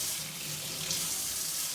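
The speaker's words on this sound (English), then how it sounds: "Now I'll show you how I wash my rice." Tap water running straight onto rice held under the faucet while it is washed, a steady bright hissing splash that continues throughout.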